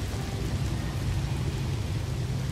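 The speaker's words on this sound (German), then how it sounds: "Also mit dem giftigen Regen ist doch gar nicht so schlimm, wie ich zuerst dachte." Toxic rain in the No Man's Sky video game pours as a thick, steady roar with a low rumbling undertone, continuous and enveloping, with no speech.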